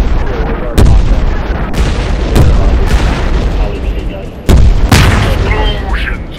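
Loud, repeated booming explosions in a jet fighter video game featuring a Ukrainian MiG-21, several heavy blasts spaced across the stretch over a constant roar of engine and battle noise.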